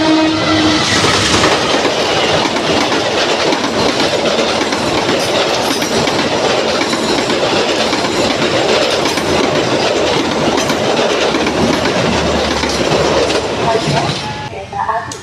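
A loud train rumbles past close by at a level crossing near Lempuyangan and Tugu stations in Yogyakarta, with continuous clattering wheels and a horn blast near the start, fading slightly at the end.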